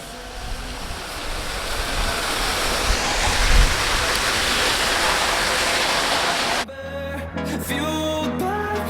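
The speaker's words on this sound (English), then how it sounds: "Both sides of the bridge there are maybe 6 waterfalls here." Several waterfalls beside a bridge in a family park in Qatar roar as a loud, steady, close rush of falling water for most of the clip before music takes over.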